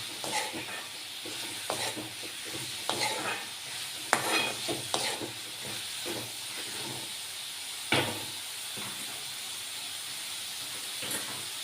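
Kathiyawadi-style radish sabji with gram flour cooks on a low flame in a pan, giving a constant gentle sizzle and steamy hiss, with occasional stirring clinks and scrapes and no talking.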